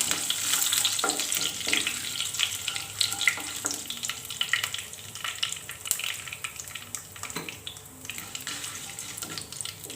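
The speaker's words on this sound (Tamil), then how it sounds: "இப்போ நான் கருவேப்பிலை சேர்த்துக்கிறேன்." Curry leaves are dropped into hot oil with already-popped mustard seeds and fenugreek, giving a loud, close, crackling sizzle. Scattered pops and spits sit over a hissing frying bed that eases slightly toward the end.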